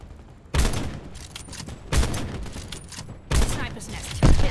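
Bursts of rapid gunfire from the video game Call of Duty: Black Ops 4 come in four loud, sharp volleys spaced about a second apart, with quieter background game noise in the gaps.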